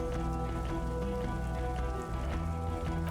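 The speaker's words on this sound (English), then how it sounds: "The great district hums in the falling rain." Steady rain falls across a city district in the video game Disco Elysium, a dense, continuous hiss of drops on surfaces with a low ambient hum underneath, no voices.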